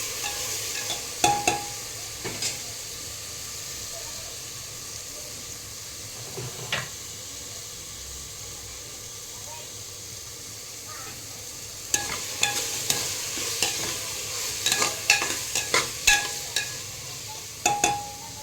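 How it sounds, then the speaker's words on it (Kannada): Spices sizzle quietly in a pan for masala rice, with occasional scraping clicks of a spoon stirring, the stirring growing busier toward the end. "ಹಸಿ ವಾಸನೆ ಹೋಗೋ ಥರ ಸ್ವಲ್ಪ ಫ್ರೈ ಮಾಡ್ಕೊಂಡು"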